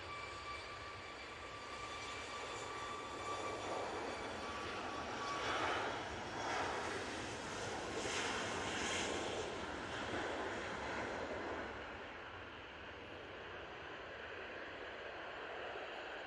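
A TUI airliner bound for Lanzarote takes off from Manchester Airport, its steady jet engine roar swelling to a broad peak midway and then slowly easing as it climbs away, heard alone without talk.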